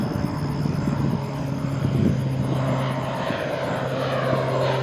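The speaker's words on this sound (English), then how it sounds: "Looks like we have a small private plane that just took off." A small private Beechcraft propeller plane takes off at Green Bay airport, giving a steady droning engine hum with a tonal buzz, moderately loud and unbroken by voices.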